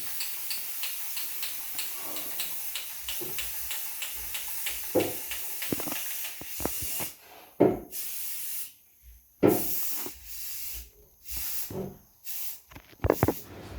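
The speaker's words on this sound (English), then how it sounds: "So therefore I'll be using my gold spray." Gold spray paint hisses from a can onto a bottle in repeated close bursts, a steady stream at first, then short broken sprays with pauses between them.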